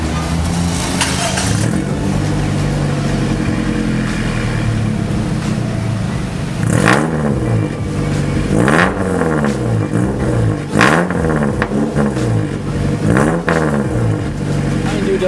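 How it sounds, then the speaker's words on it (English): A Perodua Myvi fitted with new extractor headers revs through its exhaust, a steady loud drone rising into repeated throttle blips that swell and fall close by, with voices talking underneath. "So let's get a short exhaust clip."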